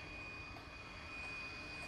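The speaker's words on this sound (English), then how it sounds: "Oh, it's the train, I think." A train arriving in Dead Space, a low, steady rumbling drone with a faint high whine running throughout, fairly quiet and distant.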